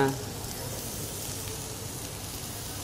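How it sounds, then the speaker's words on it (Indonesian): Cauliflower and broccoli sauté in a hot pan at a hotel cooking demonstration, giving a steady, moderately loud sizzle and crackle that continues evenly throughout. "Kita masukkan cauliflowernya, brokolinya"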